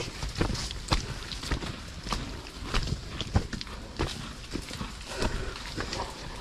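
Rhythmic clip-clop of a work horse's hooves on a hard surface while hauling a load of rice uphill, steady and fairly close, with scattered knocks and rattles, no talking.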